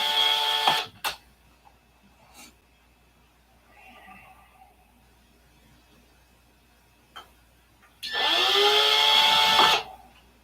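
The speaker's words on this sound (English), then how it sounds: "don't push on these drill bits because you'll break it" Hand drill with a drill bit during aircraft canopy work, two short bursts of high whirring drilling, one brief at the start and a longer close run near the end, separated by quiet clicks and handling noises.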